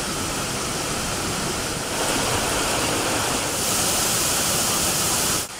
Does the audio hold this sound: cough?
no